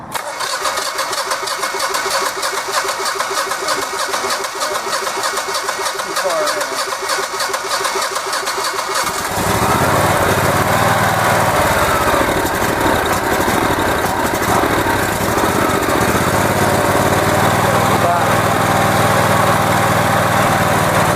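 A Generac GP15000E portable generator engine being started, first a long churning crank, then catching and settling into a loud, steady rough idle close by.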